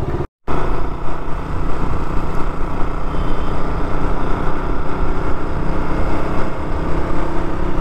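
A KTM Duke motorcycle fitted with a new chain sprocket kit is ridden, its engine roaring continuously and loudly close by, with a brief cut in sound at the very start.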